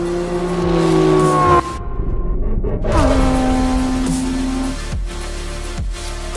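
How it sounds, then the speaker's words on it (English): A Ferrari Enzo and a Porsche drag racing over a half mile, loud engines droning and revving with gear shifts and rising pitches, the roar cutting briefly before surging on again. "Johnny got a beautiful jump, and then the Ferrari just reeled him in"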